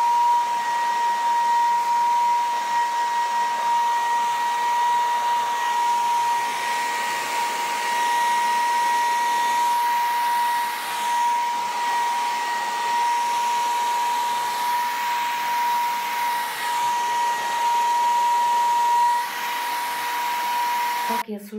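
A hair dryer blows steadily and close by while a bob haircut is styled at home, a continuous whining airflow with slight shifts in tone as it moves, and no talking.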